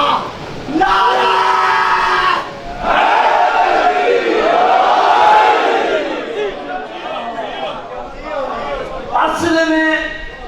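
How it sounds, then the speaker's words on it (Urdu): Majlis crowd roaring a slogan response with raised hands: a massed voice swells loudly, rises and falls in long waves, then breaks into a fresh burst of shouting near the end. "دونوں ہاتھ بلند کر کے پوری طاقت سے نعرے کا جواب دے گا"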